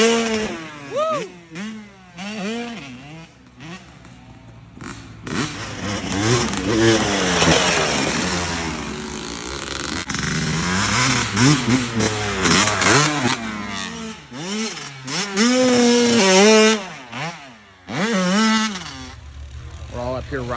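Two-stroke dirt bikes rev and rise in pitch on a motocross track, loud buzzing engines swelling and falling throughout, with people talking and shouting over them.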